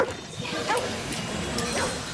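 A dog in Ghostwire Tokyo gives a few short barks and yips, fairly close, over a busy background with some talking.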